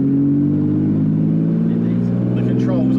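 Lamborghini Diablo SV engine rounding a roundabout with a loud, close, steady rumbling drone and strong low harmonics, pitch shifting slightly near the end.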